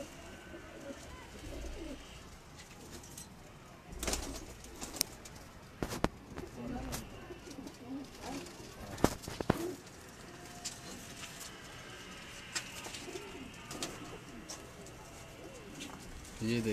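Pigeons cooing on a rooftop, soft repeated coos and occasional wing flaps and scuffs at close range, with someone talking over them.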